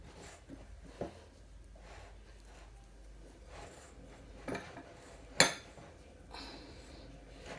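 Utensil mixing butter into galette batter in a bowl, soft scraping punctuated by a few sharp clinks against the bowl, close and quiet with occasional louder knocks.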